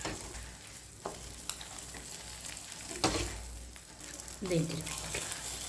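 Bread slices fry in butter or ghee in a pan and get turned over, giving a steady close sizzle broken by a few sharp scrapes and clatters of the spatula, and a voice talks over it.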